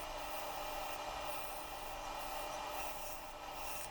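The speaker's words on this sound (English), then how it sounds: "Back with the bowl gouge here." Bowl gouge cutting a wood vase on a lathe: a continuous rough scraping rasp with a steady hum, moderately faint and even throughout.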